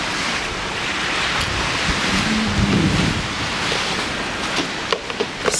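Ocean waves wash and surge below a moving Carnival Mardi Gras cruise ship at sea, a continuous loud rush of surf mixed with wind buffeting the microphone and a few soft knocks near the end.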